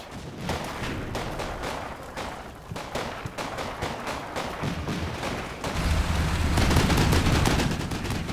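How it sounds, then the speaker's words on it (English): Supporting troops in the WWII game Combat Mission Normandy lay down dense, sustained gunfire with overlapping shots and rumbling fire that builds louder toward the end, with no talking. "The intense fire from the supporting troops keeps the enemy's heads down"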